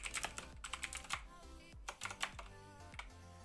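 Someone types quickly on a computer keyboard, with a dense run of close, crisp key clicks and clacks in uneven bursts, quiet overall.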